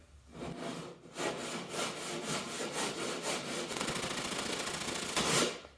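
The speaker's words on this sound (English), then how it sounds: "So lots of sanding to get that ready." Sanding of soft cedar wood on a kayak kit deck, rapid back-and-forth rasping strokes close up, repeating in an even rhythm with a brief pause near the start.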